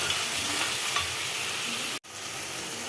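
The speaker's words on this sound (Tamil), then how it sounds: "தக்காளி நல்லா குக் ஆகிட்டு இன்னொரு five R ten seconds cook ஆகட்டும்" Tomatoes for tomato biryani fry and sizzle steadily in a pan, a continuous bright crackle with soft stirring scrapes, broken by one brief near-silent gap before the hiss resumes.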